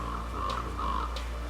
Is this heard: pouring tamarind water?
no